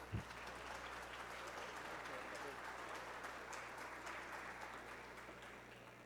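Audience at a medical conference on dentistry in cancer care applauds to welcome a doctor to the podium, faint continuous clapping over a low steady hum, fading slightly toward the end.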